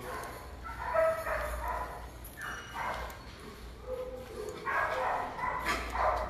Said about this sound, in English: And I hear barking back here